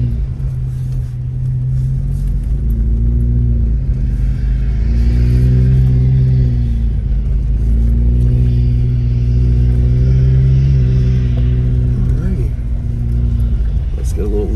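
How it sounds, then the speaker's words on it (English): A car moves slowly through a snowy parking lot in Big Bear Lake, California, after a snowstorm, its engine rumbling steadily close by and rising and falling as it picks up speed. "we're just gonna drive through the parking lot right here"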